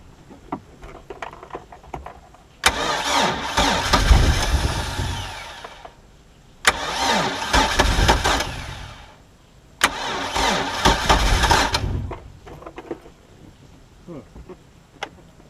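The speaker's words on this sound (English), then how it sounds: "Let me adjust the air fuel mix and see if I can get it going." A Mercury Mercruiser 3.0 boat engine that had sat unused for nine years cranks in three long bursts of roughly three seconds each, separated by short pauses, loud and close with no catch.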